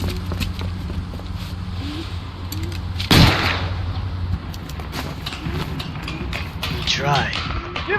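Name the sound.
gunshot at a fleeing suspect in the video game LA Noire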